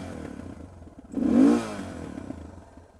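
A single quick Suzuki DR650SE engine rev with an FCR-MX carburetor, rising sharply and falling away within a second, over a low idling rumble.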